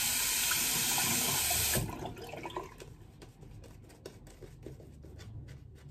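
Water gushes loudly from a tap for nearly two seconds, then cuts off, leaving quieter dripping, splashing and handling sounds in a sink for the rest of the clip, with no voices.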